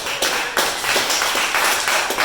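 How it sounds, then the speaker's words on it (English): A small group applauding in a casual indoor setting: dense, uneven clapping from a few people, steady for about two seconds with no voices on top. "Round of applause."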